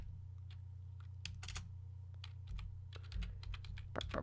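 Bursts of close computer keyboard typing, with sparse clicks turning into faster runs of keystrokes and a sharp final clack, all over a constant low mains hum.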